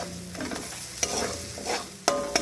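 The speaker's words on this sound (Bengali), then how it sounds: "একটু ভালো করে কষিয়ে নেব" Spice mix with gram flour being sautéed over low heat in a pan for a dal and spinach dish, with a steady close sizzle and repeated scraping stir strokes, several sharp clinks of the spoon against the pan.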